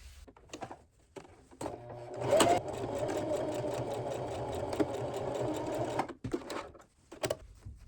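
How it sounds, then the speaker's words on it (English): Close by, a sewing machine stitches down the seam allowance at a drawstring opening on a fabric gift tote, running steadily for about four seconds between brief handling clicks. "I'm going to sew down both sides of the seam allowance just at the drawstring opening"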